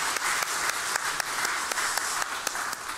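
A church congregation at a Sunday afternoon service claps together in dense, steady applause that carries evenly through the whole moment without a break.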